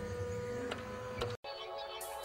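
A printer runs an aura photograph print for Kirlian photography, a steady mechanical whir with a couple of faint clicks, a brief cut to silence, then a lighter hiss near the end.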